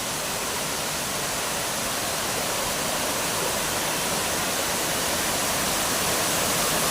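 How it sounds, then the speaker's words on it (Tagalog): Bantakay Falls pours in a steady, dense roar of rushing water, close and loud, holding an even broadband wash from start to finish with no voices. "Ang ganda ng falls."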